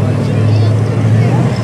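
A De Tomaso Pantera GTS with an American engine idles nearby at a classic car show, its deep, steady low rumble continuous throughout amid crowd murmur.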